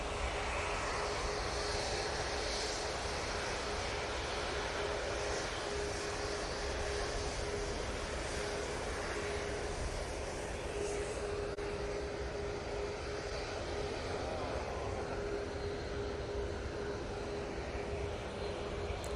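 A passenger airliner taking off from a runway at Manchester Airport, a loud, steady jet engine roar that holds broadband and continuous for the whole stretch, with no talking over it.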